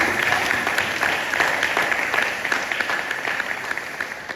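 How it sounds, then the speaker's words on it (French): A church congregation applauds during a Sunday service, sustained clapping from many hands filling the room at steady loudness throughout, with faint crowd murmur beneath. "On acclame encore l'Éternel."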